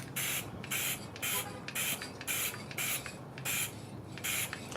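Repeated short hissing bursts from an aerosol can of spray sealant, about eight quick sprays in a steady rhythm, close and fairly loud.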